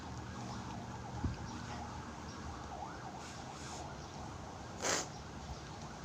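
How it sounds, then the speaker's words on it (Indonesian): Ambulance sirens from a passing convoy wail faintly in the distance over steady background noise, with a brief louder burst near the end. "rombongan ambulans"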